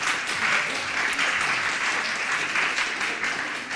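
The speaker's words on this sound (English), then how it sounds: "give yourself an applause" Audience applause fills the room, a steady dense wash of clapping that stays loud and even throughout without breaking.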